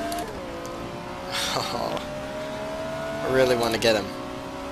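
Race car engine in Race07 revving and accelerating, the tone rising and falling through gear changes in two louder surges, with someone talking over it.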